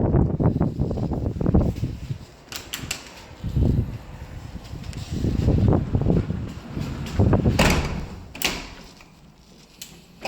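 Strong wind on a wooden house rooftop buffeting the microphone in gusty, rumbling surges with intermittent clanks and knocks, close and uneven, swelling and fading over several seconds.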